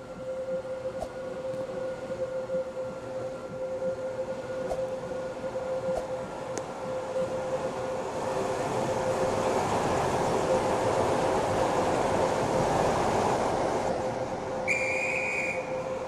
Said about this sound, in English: The train now approaching platform 7 does not stop here.